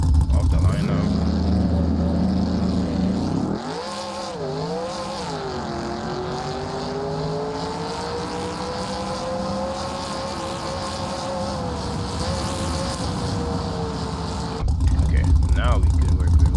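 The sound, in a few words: Chevrolet Monte Carlo doing a burnout in video game BeamNG.Drive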